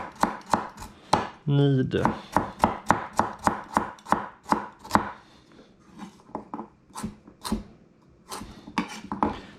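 Ingredients for a wood-fire stove meat soup are roughly chopped on a board with a knife, a fast run of sharp, evenly spaced knocks near the microphone, slowing toward the end, with a brief word spoken.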